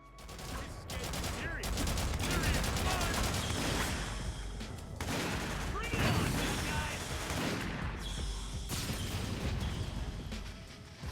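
Troops trade gunfire in the video game Haze, dense continuous bursts of automatic fire and booming shots layered over each other, loud and sustained with brief gaps.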